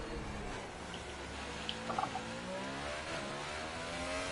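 Formula race car engine in Gran Turismo Sport on a Singapore circuit, a steady mid-pitched drone with a quick upshift and a few brief sharp blips, heard alone.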